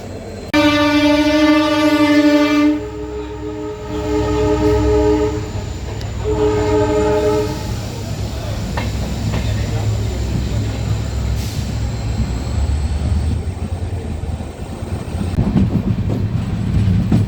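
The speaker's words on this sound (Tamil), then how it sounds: "ரொம்ப நாள் கழிச்சு ட்ரெயின் போகுது" A passenger train on the Mayiladuthurai to Karaikudi line sounds loud, sustained horn blasts, then a shorter second honk, while the carriages rumble and rattle steadily along the track up close.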